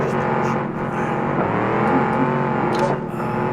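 A side-by-side off-road vehicle engine in a racing video game drones steadily and loudly throughout, its pitch bending slightly as it revs, with no pauses.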